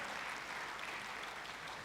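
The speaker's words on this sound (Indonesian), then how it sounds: "Tepuk tangannya pula yang paling meriah buat Tuhan kita." A church congregation breaking into applause, a short dense burst of many hands clapping at a steady level with no voices over it.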